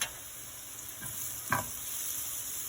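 Onions sizzling and frying in a pan for egg curry, with soft stirring and tossing as chili powder is worked in, a quiet steady hiss and a couple of light clinks.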